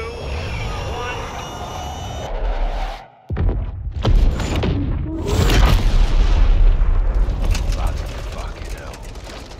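An airstrike hits its target in the Call of Duty Modern Warfare 2 Remake. A jet roar cuts off briefly, then a heavy boom gives way to loud, rumbling, crackling debris and a long tail.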